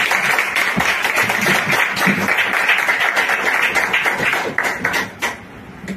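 Seminar audience clapping during a reward points explanation: a continuous, fairly loud wash of many hands, steady for several seconds before thinning slightly near the end.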